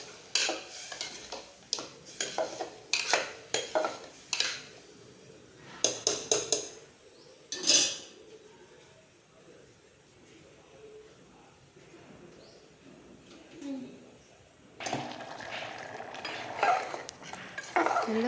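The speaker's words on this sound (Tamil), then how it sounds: "நல்லா மிக்ஸ் பண்ணி விடுங்க" A spoon stirs egg tamarind curry with bitter gourd in a metal pot, giving clustered scraping and clinking bursts, a quieter stretch, then renewed busy stirring near the end.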